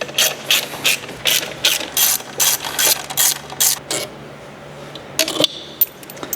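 Hand ratchet clicking rapidly in short bursts while loosening two 10mm bolts on a car's intake sound generator tube, a close, crisp pawl chatter with brief pauses between strokes.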